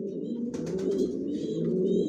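Racing pigeons of Janssen line cooing in a loft with nesting pairs and chicks; soft, close low warbling coos run throughout, with a few faint higher chirps overhead.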